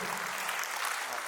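Brief burst of audience applause at a wedding gathering, a dense wash of many hands clapping at once, fairly loud and over in about a second.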